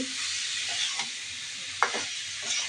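Taki fish and turnip sautéing in spices in a hot pan, giving a dense, continuous sizzle with a few sharp stirring knocks; no talking.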